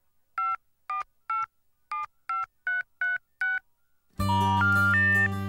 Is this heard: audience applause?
no